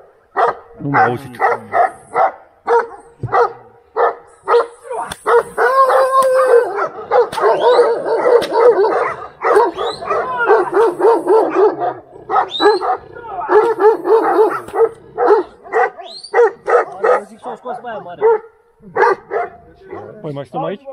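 Romanian shepherd dogs at a sheepfold bark loudly and repeatedly for a long stretch, several overlapping yelps and whimpers close by, with people talking at times among the barks.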